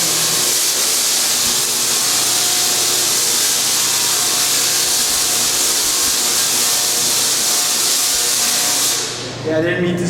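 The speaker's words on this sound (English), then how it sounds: "That crackling sound actually, when you're hearing this, it's breaking the sound barrier. And I'll explain in a minute. But what it is, it's a Tesla coil." A Tesla coil at Griffith Observatory unleashes a continuous loud, harsh hissing crackle of electrical discharge that holds steady for about nine seconds before abruptly cutting off.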